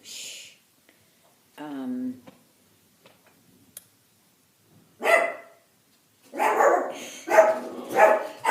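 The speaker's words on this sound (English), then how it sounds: "there's the dog" A dog named Tucker barks indoors, a few sharp barks and yelps near the end after a quieter stretch with a brief whine-like sound and small ticks, fairly close.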